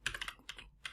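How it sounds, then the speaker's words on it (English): A very loud computer keyboard clatters with quick bursts of keystrokes, a cluster of rapid clicks followed by a brief pause and two more short flurries, close and sharp with no talking. "I have a very loud keyboard. You're going to hear this"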